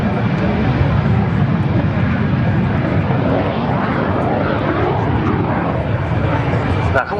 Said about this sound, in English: B-17 Sally B, meanwhile, running up at the left-hand end of the runway.